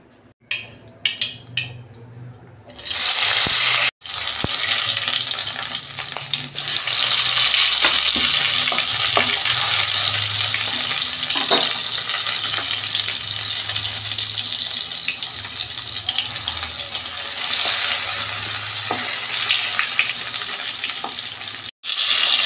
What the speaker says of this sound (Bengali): এই যে কড়াই তেল দিচ্ছি, আমি বেগুনটা ভাজবো।